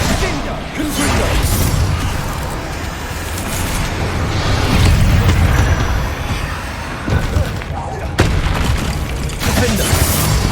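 Confringo fire spell blasts in Hogwarts Legacy, heavy booming impacts and crashing debris rolling through a loud, dense combat mix, with brief voices over the action.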